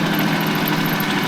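A Japanese mini tractor, freshly rebuilt engine, runs steadily while tilling soil, a constant close, low mechanical drone with no voices.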